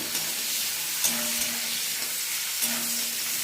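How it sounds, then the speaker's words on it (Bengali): Green chillies fry in a pan with onion, making a constant hissing sizzle at moderate level, close by, with a couple of small clicks from stirring and no one talking. "সেই জন্য এইটা কাঁচা লঙ্কাটা ভেজে দেবো"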